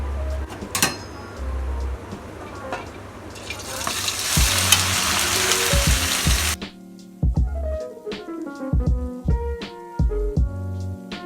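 Soybean chunks drop into very hot Dalda ghee for veg momo filling, a loud hissing sizzle that swells for a few seconds and then cuts off abruptly, with thuds and clattering before and after.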